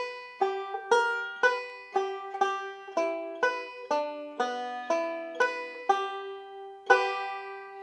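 A fingerpicked string instrument plays the A part of Cripple Creek up the neck in a clean, evenly paced run of ringing plucked notes, heard alone.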